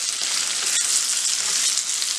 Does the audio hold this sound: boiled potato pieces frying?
yes